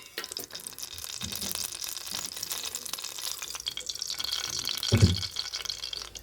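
Oil is poured into a kadai on a stove after the water has cooked off, a soft hissing trickle with faint sizzle. It swells briefly near the end.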